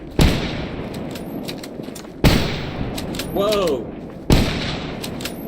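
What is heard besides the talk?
gunfire in the video game S.T.A.L.K.E.R. GAMMA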